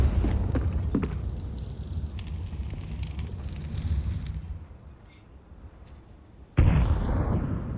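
A grenade blast in Counter-Strike during an ESL Pro League quarter-final match, heard as a sudden loud broadband burst near the end after fiery crackling rumble and a quieter stretch.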